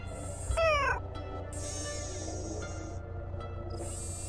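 A cat meows in the Nancy Drew game Shadow at the Water's Edge, giving one clear rising-and-falling meow near the start over a steady background hum.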